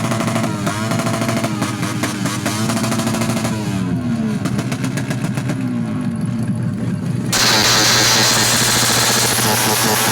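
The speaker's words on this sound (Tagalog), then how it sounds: "Halos dito wala na akong marinig, sobrang lakas ng mga tambucho." Loud motorcycle exhausts rumble and crackle at an outdoor motor show in Talampas, Bustos, Bulacan, with sharp rapid bursts, a busy crowd-filled mix, and a brighter, louder surge near the end.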